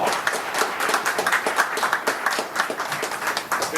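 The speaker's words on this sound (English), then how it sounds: "So let's give them all a big round of applause." An audience at an evening event in McKinney gives a round of applause, brisk and fairly close clapping from many hands that holds steady throughout.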